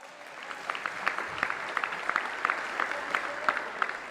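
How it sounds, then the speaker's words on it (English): Sparse audience clapping during the Illinois governor's 2023 address, a small group applauding with distinct individual hand claps in an uneven rhythm, fairly soft and set back in a large hall. "The people clapping are the ones who work there"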